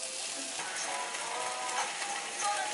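Chopped garlic, onion and green onion frying in olive oil in a pan, a steady close sizzle with faint stirring scrapes running throughout, and no talking.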